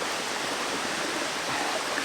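A flowing stream near a waterfall makes a constant soft rush of water, even and unbroken, with no voices.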